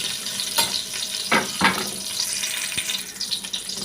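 Onions and curry leaves sizzle and crackle in hot oil in a pan on the stove, a steady close frying hiss with a few stirring scrapes and no talk.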